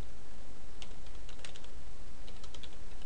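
Keys clack on a computer keyboard as a new password is entered, a quick irregular run of faint taps over a steady background hiss, with no speech.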